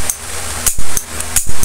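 The hammer of a revolver with a DIY replacement trigger spring snaps as the trigger is pulled, several sharp metallic clicks in quick succession, close and loud with no voices.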